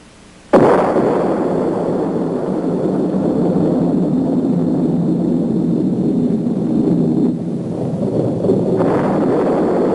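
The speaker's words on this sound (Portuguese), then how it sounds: "A primeira explosão atômica chocou o mundo." An atomic explosion: a massive, sustained roaring rumble erupts suddenly and holds steady, loud and broad like a huge distant blast rolling on without pause.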